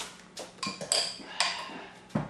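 A spoon knocks and clinks against a glass jar of green seasoning in a few sharp, separate taps over about two seconds, close and fairly quiet.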